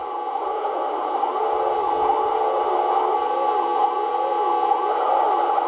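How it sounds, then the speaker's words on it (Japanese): Police-car siren-like buzzer in the Cisco Heat arcade racing game, a loud continuous wailing tone that sweeps up and down in a steady repeating pattern over a low engine hum. "なんかブザーみたいなのがずっと鳴ってるなと思ってたら、パトカーのゲームって珍しいね"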